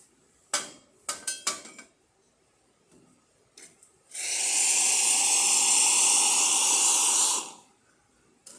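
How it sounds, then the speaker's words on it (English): A Profitec Pro espresso machine, freshly serviced, gives a few sharp clicks and knocks before its hot water spout lets out a loud, steady hiss for about three seconds, then stops. Close by, no talking. "the hot water."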